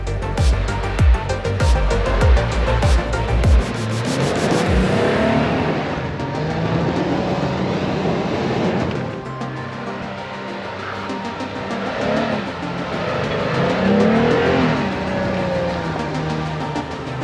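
A Jeep engine throttling up on a snowy trail, opening with deep revving bursts, then a sustained working drone that rises and falls as it labors uphill, loud and close, with no talk.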